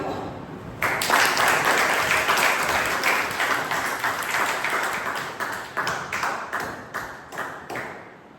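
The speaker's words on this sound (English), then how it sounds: "Please join me in giving a big round of applause" An audience at a Toastmasters club meeting breaks into applause to welcome the contest chair, a full burst of clapping that fades into scattered, separate claps near the end.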